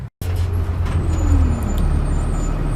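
Riding on a bus: a steady low engine drone and road rumble continue after a brief cut at the start, with a hissing air-brake-like sweep partway through, close and fairly loud.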